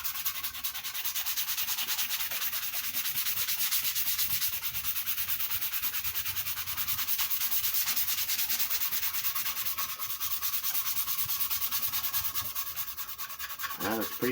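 Steady, close abrasive rubbing of 220-grit sandpaper across a wooden Les Paul-style electric guitar body, continuous and even for the whole stretch with short rhythmic strokes and no talking.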